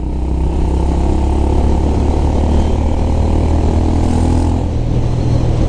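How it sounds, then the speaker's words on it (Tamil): Honda CB350RS motorcycle with a deep, throaty aftermarket-style exhaust idling steadily nearby, a constant low rumble with slight rev variation and no talking. "சவுண்டு வந்து பார்த்தீங்கன்னா எப்படி இருக்குன்னா ஒரு ஆஃப்டர் மார்க்கெட் எக்ஸாஸ்ட் சவுண்டு மாதிரி இருக்குது"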